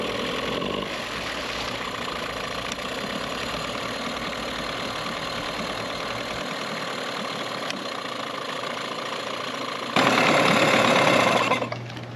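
A Johnson 15 outboard boat engine idles steadily and close, a continuous droning rumble that briefly grows louder and harsher near the end.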